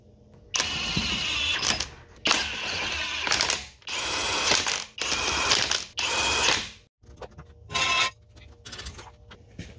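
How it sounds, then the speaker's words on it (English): A ratchet spins lug nuts back on while a front wheel goes onto a 2006–2012 Ford Fusion after a hub and bearing swap: five loud, steady bursts of rapid clicking, each a second or so long, separated by short pauses, then a shorter final burst. "Now we'll get our wheel put back on."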